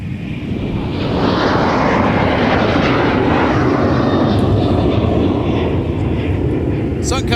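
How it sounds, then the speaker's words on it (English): A Sun Country airliner taxis at Minneapolis–Saint Paul airport, its steady jet engine roar rising and holding loud and close, with a faint voice in the background. "Sun Country hustling out of the Twin Cities because they got to make way for the defending NFL Super Bowl champions in 2024."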